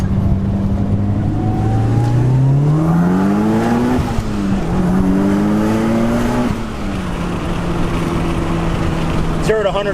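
Modded JDM Mitsubishi Evo VII with anti-lag pulling hard through first and second gear, engine note climbing, dropping at the shift, then climbing again, loud and close with a sharp pop at the end.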